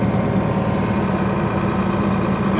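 A Ford F650 truck's Cat 3126 diesel engine holds a steady, loud revved-up drone with a deep, even rumble throughout, running alone with no talk.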